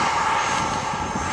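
A Freewing F-22 Raptor 90mm electric ducted-fan RC jet flying, a loud steady whooshing whine that fills the whole moment without pause.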